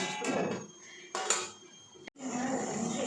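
A metal plate set over a pan of frying brinjal for vangi bath gives a few sharp clinks and scrapes of cookware, close by, over a low background of sizzling.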